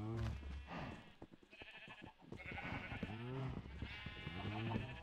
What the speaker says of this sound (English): What is wrong with you sheep?